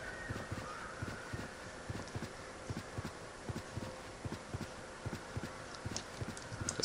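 Horse hoofbeats in the fantasy MMORPG Everquest 2: a steady, even clip-clop of a ridden mount at a trotting rhythm, moderately quiet, with soft ambient forest sound and no talk.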